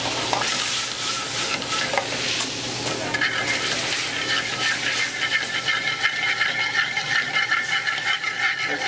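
Pan deglazed with Dijon mustard and veal stock while the drippings are scraped up, giving a steady loud sizzle with rhythmic scraping and stirring throughout and no voices.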